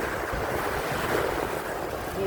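Ocean waves wash steadily onto a shell-strewn beach, a continuous close rush of surf mixed with wind buffeting the microphone.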